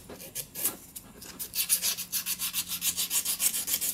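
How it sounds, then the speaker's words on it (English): Carbon is sanded out of a 2003–2004 Cadillac CTS intake port with quick, rhythmic back-and-forth scratchy rubbing strokes, close and alone. "kind of sand it down to where you get the carbon out"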